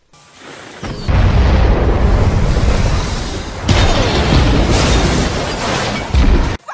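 A loud, sustained explosive roar of cartoon fireworks bursts in, rumbling heavily for several seconds with a second blast midway before cutting off.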